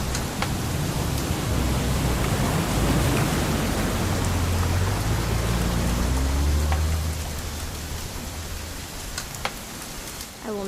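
Steady rain pours in the video game What Remains of Edith Finch, loud and continuous, with a low rolling rumble of thunder underneath that eases slightly toward the end.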